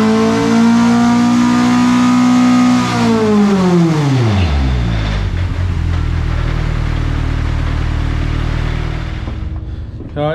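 A pickup truck race engine running on a dyno, loud and close: a steady high rev that drops sharply to a lower, rougher idle, then holds there until near the end.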